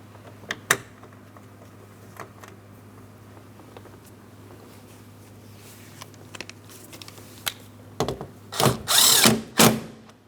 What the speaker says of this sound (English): start in the mounting bolt, and snug it up.